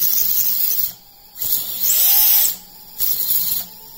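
Quadcopter drone motors throttling up in short bursts during a tuning test, a high whining hiss that swells and drops several times with a rising pitch sweep, close and steady with no talk.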